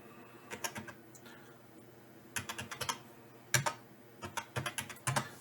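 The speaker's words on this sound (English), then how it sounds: "So I have a calculator here. I keep at my desk. Big numbers so I can, you know, type in quick." Quick bursts of button presses on a large-button desk calculator, tapped in short rapid clusters with brief pauses between entries, close and fairly clear with no talking.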